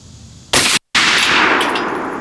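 A Rock River Arms rifle chambered in 6.5 Creedmoor fires a single loud, sharp shot outdoors at a range, followed by a long ringing tail that fades slowly.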